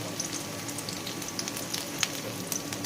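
Chopped onion with minced and whole garlic fry in hot oil, producing a steady, close crackling sizzle with small pops scattered throughout.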